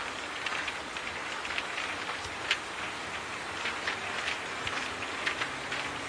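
Hail and rain fall in a steady, dense hiss, scattered with sharp ticks from hailstones striking a surface. No voices are heard.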